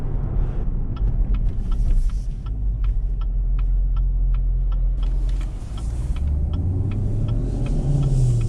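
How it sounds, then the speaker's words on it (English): A low, throbbing V8 exhaust burble from a 2017 Chevrolet Camaro 2SS convertible drones steadily from close by, then swells as the engine revs up toward the end. "The car really does sound great."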